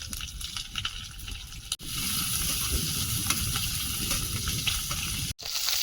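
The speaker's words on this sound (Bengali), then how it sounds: "মশলাটা ভালোভাবে ভেজে নিয়েছি" Spices, dried and green chilies and chopped onion frying in a pan give off a steady, close sizzle that continues throughout, with two brief cut-outs.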